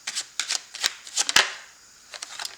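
Tarot cards riffle and slap in a run of crisp, close bursts, with one sharp snap near the middle and softer flicks trailing off at the end.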